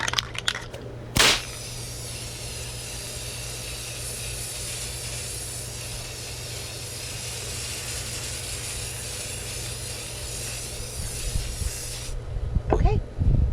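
A spray can lays down a matte clear enamel coat on a tumbler outdoors, a steady broad hiss running unbroken for about eleven seconds after a brief short burst, then stopping, with a few light handling noises at the end.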